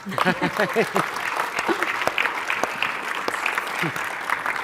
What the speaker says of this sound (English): I expected a round of applause for that one.